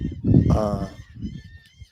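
Seagulls call outdoors in the Florida Keys, a loud, honking cry heard close by, mixed with speech and background noise before fading into quieter murmurs.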